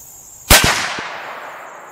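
A sharp, loud shotgun slug blast sounds once outdoors during a scope sight-in, followed by a couple of quick metallic echoes and cracks as the slug strikes a steel plate downrange.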